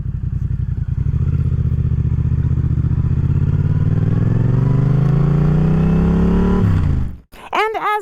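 A newly bought motorcycle revs up steadily close by, engine pitch climbing for several seconds before cutting off abruptly, followed by a brief voice.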